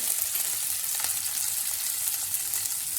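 Curry leaves frying in hot oil for bhindi masala, a steady close sizzling crackle that runs throughout without pause.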